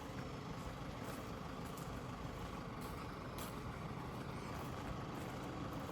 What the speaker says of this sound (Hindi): गाड़ी स्टार्ट कऽ रखने छथि,